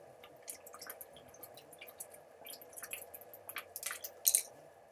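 Someone drinks from a regular bottle of water, with soft wet squishes, small gulps and sips in an irregular run, quiet and close, ending in a slightly louder swallow, with no talking.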